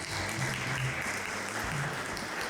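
Steady applause from an audience at a civic State of the City luncheon event in North Battleford, a dense continuous wash of clapping at moderate distance with no breaks.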